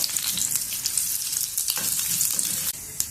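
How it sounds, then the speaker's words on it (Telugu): Mustard seeds and dried red chillies splutter in hot oil, giving a loud, dense, continuous crackle and sizzle right up close with no voices. "ఆవాలు, ఎండుమిర్చి అన్నీ బాగా చిట్టుపట్లాడుతున్నాయి"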